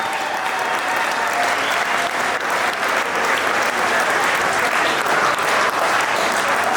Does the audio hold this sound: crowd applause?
yes